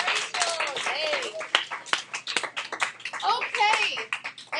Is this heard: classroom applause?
yes